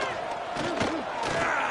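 Stadium crowd noise from a college football video game, a steady broad roar with a few rising vocal swells, loud and continuous throughout with no clear words.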